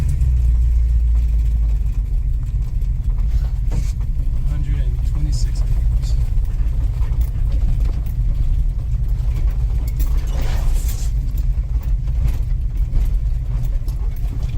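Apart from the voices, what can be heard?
truck engine running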